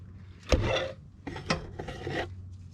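Scraping and rasping come from cleaning the tapered stud hole for a track bar on a Jeep XJ, a few rough strokes in short bursts with brief pauses between them, close and fairly loud.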